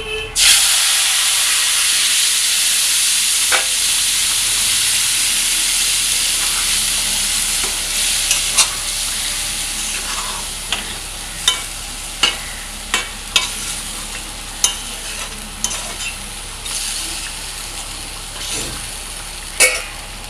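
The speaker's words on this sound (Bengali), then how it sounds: "এবার এর মধ্যে আমি এই ডালটা আবার ঢেলে দেবো।" Lentils poured over fried ginger, cumin and spices in a pan for Bengali fish-head dal set off a loud, continuous sizzle that slowly eases, while sharp, evenly spaced spoon taps and scrapes ring out against the pan.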